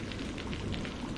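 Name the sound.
heavy rain in cartoon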